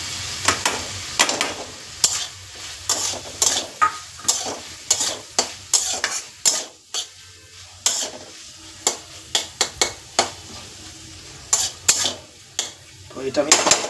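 Crumbled fried fish roe is tossed into bitter gourd, potato, eggplant and stem vegetables in a pan, with a low sizzle under repeated sharp scrapes and clacks of a spatula against the metal, close and irregular.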